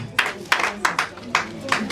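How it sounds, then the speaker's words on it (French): A small gathering at a church service claps for a young reader, about six evenly spaced, rhythmic claps, close and moderately loud. "On va applaudir pour notre lectrice."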